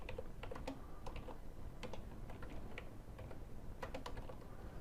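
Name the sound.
typing a name on a computer keyboard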